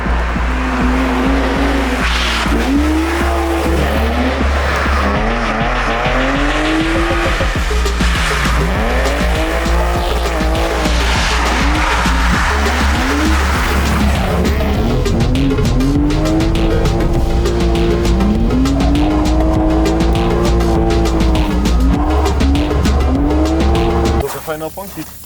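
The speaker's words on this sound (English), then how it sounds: "we're drifting blind" A Japanese-inspired Polonez drifts with a loud engine roaring and revving continuously, its tires squealing in long, repeated wails close by, with no talk over it.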